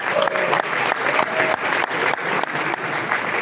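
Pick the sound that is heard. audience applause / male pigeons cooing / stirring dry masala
audience applause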